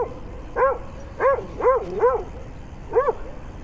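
Bremer the dog barks at another dog: five sharp, fairly close barks in an uneven rhythm over a low background hum, with a gap before the last.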